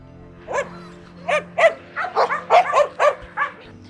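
Several dogs barking at an animal shelter in the UAE, a run of about nine sharp, fairly close barks and yips in quick bursts over a steady low hum, with no talking.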